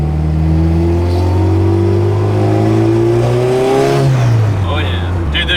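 A turbocharged Honda B18C in an EG hatchback pulls hard on a highway, its engine note climbing through the revs, then dropping at a gear change before building again, loud and close from inside the car.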